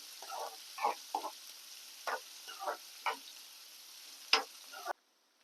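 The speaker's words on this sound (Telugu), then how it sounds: "ఉల్లిపాయలు పచ్చిమిరపకాయలు వేసుకోవాలి బాగా కలపాలి కొంచెం వేగాలి ఉల్లిపాయలు" Onions and green chillies frying in a pan for moong dal punugulu curry, stirred with a series of short, soft scraping bursts over a faint sizzle, fairly quiet and without talk, ending abruptly.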